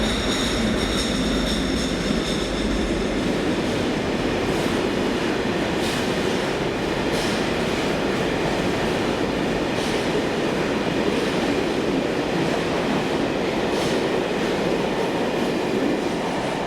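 Class 37 diesel locomotive 37800 hauling a refurbishment move through Scotland, passing steadily with a continuous rumbling roar and rail clatter, loud and close throughout, with no voices.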